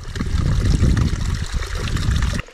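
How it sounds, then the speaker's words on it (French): Spring water trickling steadily into a filter bottle outdoors on a mountain trail, a close, continuous liquid dribble that cuts off abruptly at the end. "on passera toute notre eau par une gourde filtrante"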